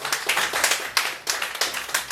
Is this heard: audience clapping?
yes